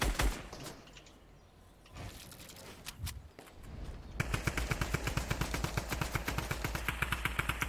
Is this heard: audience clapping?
no